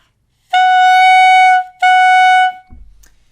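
Two tongued notes on a clarinet mouthpiece, each a bright, reedy, buzzy tone with a crisp attack, followed by a soft low thump.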